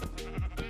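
A Minecraft sheep bleats in a modded game, a short, loud, wavering baa heard up close and alone.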